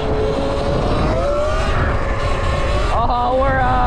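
An eRide Pro SS electric dirt bike, a 60 mph machine, whines loudly as it accelerates hard into a wheelie, its motor pitch climbing and wavering over steady wind and ground noise close by.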